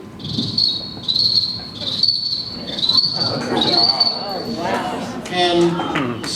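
A human voice imitating a cricket, a string of shrill, steady chirps repeated rhythmically for several seconds, then breaking into looser warbling calls near the end.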